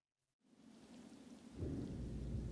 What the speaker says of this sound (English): Oh, it's still raining quite heavily.